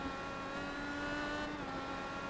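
IndyCar race car engine at Belle Isle in a racing video game, a steady high-pitched engine whine held at speed, continuous and fairly loud with no talking.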